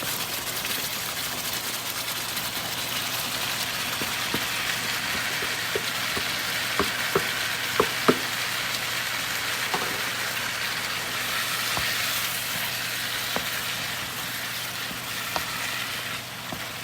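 Pork sizzling in sauce in a stir-fry pan, a steady soft watery hiss with scattered small pops and ticks throughout.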